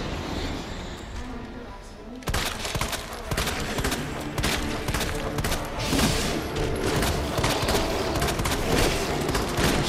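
Gunfire in Resident Evil, a dense run of shots and bursts filling most of the stretch after a quieter opening, loud and close amid other game noise.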